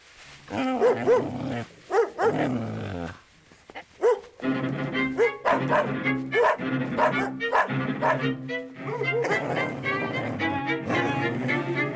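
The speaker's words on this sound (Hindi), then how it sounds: "अपने डॉग्स भी वही देख करके भौंक रहे हैं।" Dogs bark in several sharp bursts nearby, with yips and whimpers between them against a busy background.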